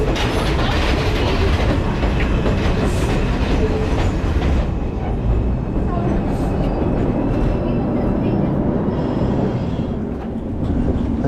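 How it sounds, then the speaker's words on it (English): A New York subway train in the Bronx rumbles loudly and continuously on the rails, with rattling wheels and clattering cars heard from on board for the whole stretch. "We're gonna get on this train."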